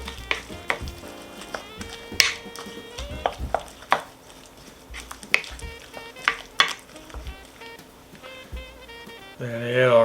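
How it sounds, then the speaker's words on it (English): Chopped green pepper being stirred into a vintage 1950s confetti dip in a bowl, with repeated scraping and clacking strokes of a spoon, close and uneven, under a voice talking throughout. "Then we add our green pepper. Mix that up a little bit."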